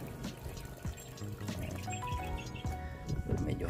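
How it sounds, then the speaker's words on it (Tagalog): Rice-washing water poured from a container onto a potted plant's dry soil, giving a close, fairly quiet splashing trickle that keeps going with small gurgles and drips, and no voices. "So didiligan natin siya nitong pinaghugasan ng bigas, hugas bigas."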